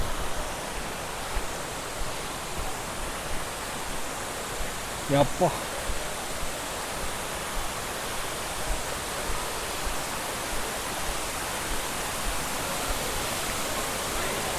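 Water rushes steadily at Chinna Suruli Falls, a constant broad roar heard close by, with a brief spoken exclamation partway through.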